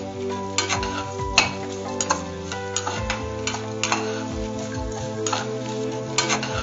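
Spices such as cinnamon and cloves roasting in oil in a pan for bisi bele bath, with a soft sizzle and sharp clinks of a spoon stirring against the metal, over a steady tonal background.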